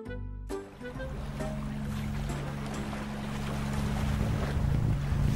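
A ship sails across open water under a steady, loud rumble of wind and washing waves that runs unbroken from start to finish, with no voices.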